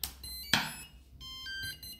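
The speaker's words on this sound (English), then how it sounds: "Top position, and you'll hear a beep beep" A few short electronic beeps at different pitches sound from a Skywalker 80amp v2 ESC during throttle calibration, with a couple of sharp clicks, fairly quiet and close.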